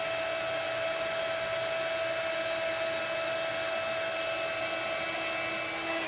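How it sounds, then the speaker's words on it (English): Heat gun held still while melting embossing powder for card making, a steady close whirring blower drone with a constant high whine, running unbroken throughout. "I'm going to grab my heat gun, I'm going to hold it still"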